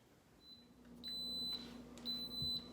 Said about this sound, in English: you can hear our pot is beeping